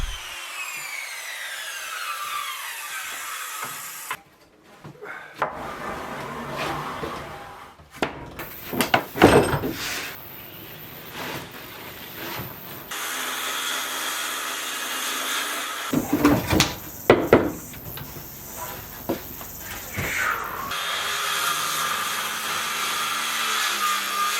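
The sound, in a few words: sawing up wooden slabs into timber for a gate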